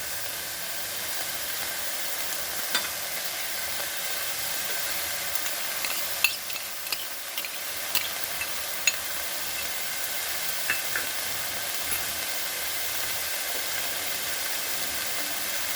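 Garlic going into a hot pan of taro stolons with dried fish gives a steady, loud frying sizzle throughout, with faint scrapes and clicks of stirring scattered across it and no talking.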